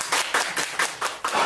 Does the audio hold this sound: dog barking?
no